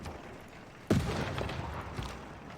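Gunfire from attacking units in the strategy game Civilization 6, playing as the Ottomans, breaks out as a sudden burst of rattling shots followed by a short spell of scattered fire and a second smaller volley, moderately loud.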